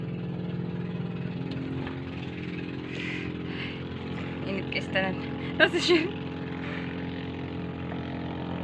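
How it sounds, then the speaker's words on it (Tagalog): A boat engine runs on a short trip to Gilutongan Island in Cordova, Cebu, a steady low motor hum heard throughout at a moderate level while people talk briefly over it. "Nag-start na ang makina."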